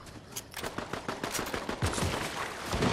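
Rapid bursts of gunfire in the Fortnite video game crackle in an irregular, stuttering rhythm, sharp repeated shots sounding fairly distant and moderately loud, with no talk over them.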